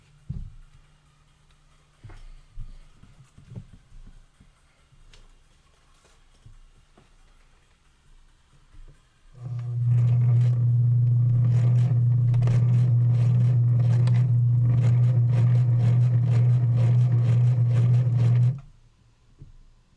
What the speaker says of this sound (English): I will hide the music for the sake of sewing machine noises.